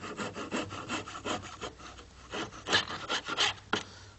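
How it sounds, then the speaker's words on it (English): Short back-and-forth strokes of a razor saw cutting through a wooden axle, a steady rhythmic rasping close by, with about a dozen even strokes and a couple of sharper bites near the end. "So I'm going to use a razor saw."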